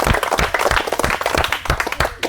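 A crowd at a game show applauds a prize winner, a dense and steady patter of many hands clapping throughout with no break.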